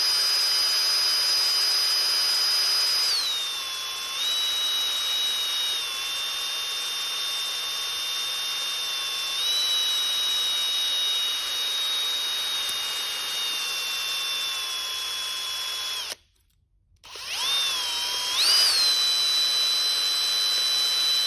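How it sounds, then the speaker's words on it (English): An electric drill spins with a steady, high-pitched motor whine while lapping in a Ford Model A engine part, shifting pitch slightly now and then, cutting out briefly near the end before resuming. "if you don't want to use a drill press, you can use a drill"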